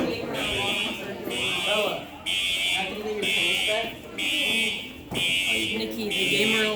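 A building fire alarm shrieks in loud, regular bursts of harsh buzzing beeps, about six in a row, while people talk underneath.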